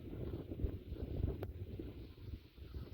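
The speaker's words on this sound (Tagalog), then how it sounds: "Hagip ang malakas na hangin." Strong wind gusting at sea amid big waves, roaring as continuous low rumbling buffeting against the microphone, with no voices.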